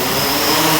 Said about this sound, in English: So here we are, getting the aircraft to go.